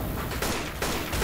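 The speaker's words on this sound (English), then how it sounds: "It's a shotgun." Shotgun blasts in the video game Left 4 Dead 2 come as two or three sharp, loud bursts in quick succession over a busy, noisy game background.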